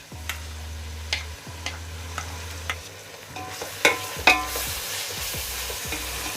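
Onion and ginger garlic paste sauté in a pan for chicken dum biryani, a steady close sizzle broken by repeated scraping stirs of a spatula against the pan.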